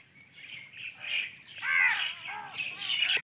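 Birds chirp and call by a roadside, several short bright tweets and warbling phrases repeating close by over faint background noise.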